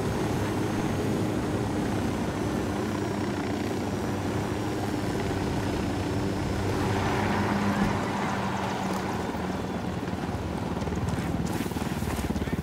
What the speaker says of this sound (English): get down, chopper!